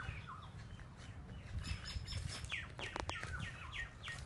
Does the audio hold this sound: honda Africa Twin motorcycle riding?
no